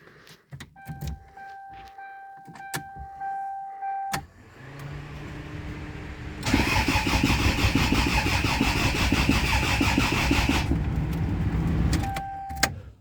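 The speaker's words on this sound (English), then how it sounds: "we are ready to actually fire this car up" A Toyota Celica engine comes to life after a few short clicks and whirs: the starter cranks, then the engine catches and runs loudly and evenly for several seconds before shutting off, followed by a few more clicks.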